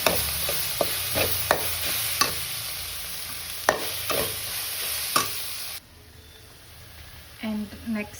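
A spoon stirs and scrapes fried rice seasoned with garam masala in a hot pan, giving repeated close clinks over a steady sizzle. The sizzle drops away near the end, and soft background noise is left.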